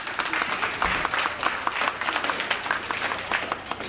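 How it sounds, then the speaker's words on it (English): A conference audience claps, producing a lively, uneven patter of individual hand claps that carries on steadily without speech. "One more round of applause for Mr. O."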